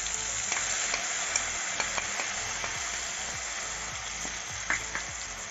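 Crushed garlic and spices frying in a pan for kachori filling, a steady broadband sizzle with scattered clinks and scrapes of stirring throughout, close and even.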